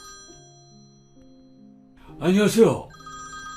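Telephone ringing in a house, a steady electronic ring tone playing alone for about two seconds before a voice answers.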